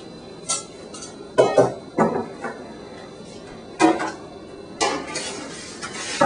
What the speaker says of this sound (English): And I'm going to need a cookie sheet.